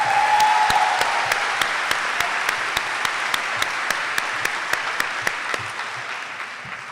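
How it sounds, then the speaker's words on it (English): Steady applause from an audience at a high school science and technology academy graduation ceremony in honor of a teacher, a dense even wash of clapping lasting several seconds with a few sharper individual claps. "So let's give Dr. Shearer, please, a round of applause."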